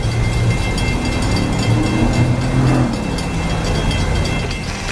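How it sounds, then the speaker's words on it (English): A northbound Florida East Coast Railroad train rolls past in Boca Raton, Florida, with a loud, steady rumble of wheels and cars close by and a low engine drone throughout. "looks like a northbound Florida East Coast Railroad train"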